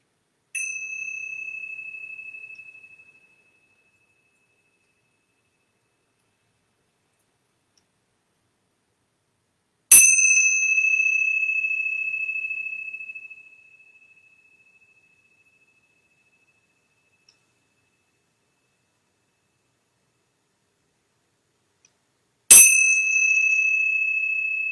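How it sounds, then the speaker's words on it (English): Three clear, bright yoga bell strikes ring out about ten seconds apart during a yoga class, each one sustaining and slowly fading into silence. "I'm going to ring these yoga bells 3 times."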